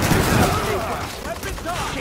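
Bursts of gunfire in The Division fire in a rapid, dense volley during a police academy siege at Rikers' Stronghold, loud and close with voices talking over them.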